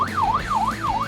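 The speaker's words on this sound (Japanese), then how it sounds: "サイレンもつけてます。" An American police-style siren fitted to a Honda Fit GD3 1500cc manual car wails loudly and steadily on its own, rising and falling in about three even sweeps.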